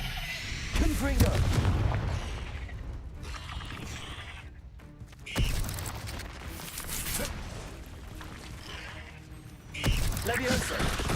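Heavy booming blasts from a fiery blasting spell in the Hogwarts Legacy video game, three big hits a few seconds apart with rumbling tails under battle noise, while a voice speaks now and then.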